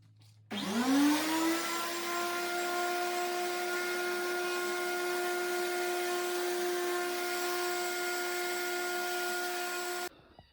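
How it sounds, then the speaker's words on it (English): A thickness planer feeding a board on a sled runs as one steady, loud, sustained tonal whine that starts abruptly and stops abruptly about ten seconds later, with no voices. "which is the whole purpose of the planer, is to actually grab the board and feed it through"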